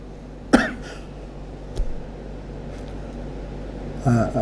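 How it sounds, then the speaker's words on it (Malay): A single sharp human cough sounds close by over a steady hum of room noise, followed by a fainter throat-clearing rasp and brief vocal sounds near the end. "Ini batuk tapi bukan flu, bukan."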